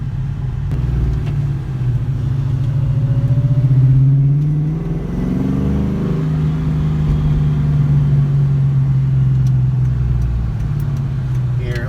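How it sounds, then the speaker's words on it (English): A cammed 2004 Ford Mustang GT V8 exhaust rumbles deep and loud from inside the moving car, a steady low throb that swells on acceleration and settles back, echoing off a nearby building. "Listen to this exhaust reverberate off the side of this building."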